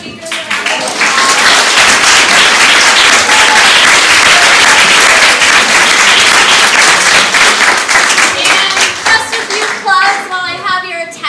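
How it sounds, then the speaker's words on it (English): Audience at a Science on Tap evening talk on blood stem cells in Santa Cruz breaks into sustained, loud applause for the speakers, dense clapping throughout that thins out near the end with a few scattered claps and faint voices. "So, we give our speakers a round of applause."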